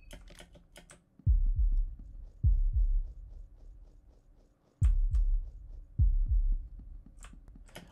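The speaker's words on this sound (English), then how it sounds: "I don't know if I like the constant threatening heartbeat." A deep, ominous heartbeat from Fear and Hunger 2 repeats in paired thumps, close and loud, with two clusters separated by a pause, while faint clicks tick in the background.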